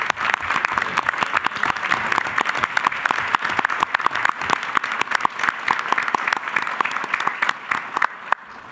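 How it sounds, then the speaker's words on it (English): A crowd applauds board and commission members at a township inauguration and reorganization meeting, dense, close clapping with sharp individual claps, holding steady before thinning slightly at the end. "Let's give them a round of applause."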